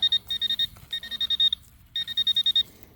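Metal detector pinpointer beeping outdoors at a rodeo site in a dirt park: a steady high electronic tone pulsing in rapid bursts of short beeps, three clusters with brief pauses between, close and clear with no talk.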